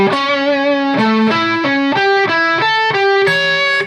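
A distorted electric guitar plays a descending seventh-chord arpeggio lick in quick triplet-feel notes, loud and sustained, played alone without talk.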